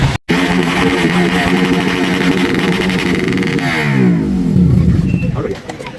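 A stunt motorcycle engine revs continuously up close, holding a raised idle and then winding through a throttle sweep before cutting out abruptly at the end.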